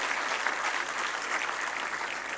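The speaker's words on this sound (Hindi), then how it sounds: "तो जोरदार तालियां हो जाए प्लीज इनके लिए।" A dense, steady burst of applause from a large crowd, loud and sustained throughout with no voices standing out.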